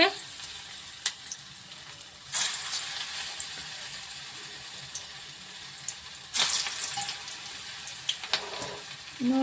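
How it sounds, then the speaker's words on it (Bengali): Gourd koftas fry in mustard oil in a wok, giving a steady soft sizzle. Two louder bursts of spitting come as pieces go in, with small clinks between, and no talk. "কড়াইতে তেল দিয়েছি সর্ষের তেল দিয়েই করছি কোপ্তাগুলো আমি করে রেখেছি পাকিয়ে ভেজে নেব একটা একটা করে"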